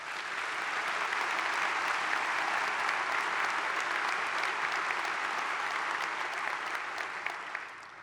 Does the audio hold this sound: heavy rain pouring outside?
no